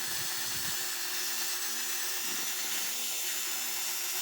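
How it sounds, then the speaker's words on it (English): A power drill whirs steadily, its pitch shifting slightly as it bites into metal, with no talking. "Make sure that the pin and the drill are aligned the best you can."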